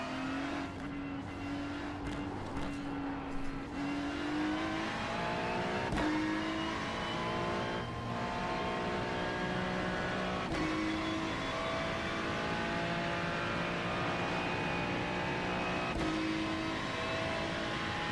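Race car engine during a lap of Watkins Glen in a racing game, steady high revving with repeated upshifts and brief throttle lifts over about eighteen seconds, loud and continuous with no talk.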